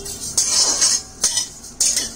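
Coriander and cumin roasting in a kadhai off the heat, stirred with a metal spoon: three bright scraping clinks against the pan at a slow, even pace, close and clear.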